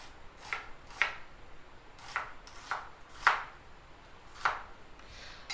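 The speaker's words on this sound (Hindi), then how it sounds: "तब तक हम साथ ही ऑनियन कर चॉप कर लेंगे।" Knife chopping onion on a board, about nine quiet crisp taps in an uneven rhythm, heard close without any talking.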